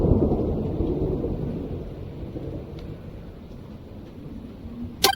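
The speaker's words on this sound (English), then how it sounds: "The sounds of distant thunder was the only thing he noticed at first." A low, rolling rumble of distant thunder swells and slowly fades over a soft hiss of rain, ending with a sharp click.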